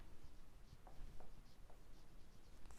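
A pen scratches across paper in short, soft strokes and taps, close but faint, while a math problem is worked out by hand; no voice is heard.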